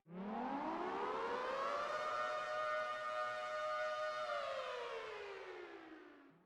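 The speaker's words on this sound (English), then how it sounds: "Once again, the air raid siren is on" A wailing air raid siren at a Las Vegas Raiders NFL game rises in pitch, holds a long steady tone, then slowly winds down; loud and alone.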